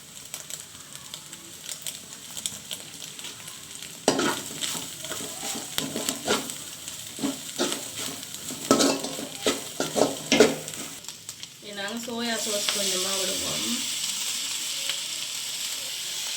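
Sri Lankan kottu roti with cabbage, carrot and fried egg being stirred and chopped on a hot griddle: rapid irregular metallic clatter over steady sizzling, ending in a long continuous hiss of frying.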